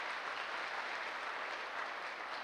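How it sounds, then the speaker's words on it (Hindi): An audience claps steadily in a continuous, moderately loud wash of applause at an event, with no talk over it. "मैं चाहूँगा सर के लिए एक ज़बरदस्त वाली ताली होनी चाहिए।"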